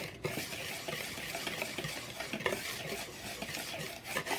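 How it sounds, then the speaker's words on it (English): A whisk stirs dry biscuit ingredients in a bowl, making quick, irregular scraping and rubbing strokes close by. The strokes are moderately faint, with small clicks where the wires hit the bowl. "I'm going to whisk them."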